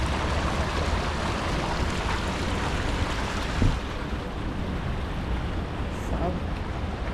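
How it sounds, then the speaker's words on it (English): Water fountains splash in the plaza at Canary Wharf, East London, a continuous broadband rush of falling water that holds steady throughout, with faint ambient sounds mixed in. "So you got lots of water fountains in here."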